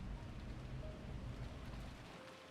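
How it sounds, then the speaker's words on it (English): Soft, steady patter of rain, faint and continuous with no other distinct sounds. "with only the sound of rain to be heard"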